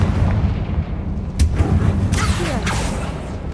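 Confringo blasting spells in Hogwarts Legacy, several sharp bursts with swooshing magical tails over a loud, rumbling background, one after another within a few seconds.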